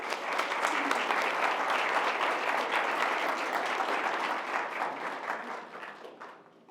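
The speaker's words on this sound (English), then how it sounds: "give you another round of applause for grounding us and starting things in a good way" A conference audience at an Alaska Native Studies keynote gives a sustained round of applause, a dense wash of clapping that holds steady and then thins out toward the end.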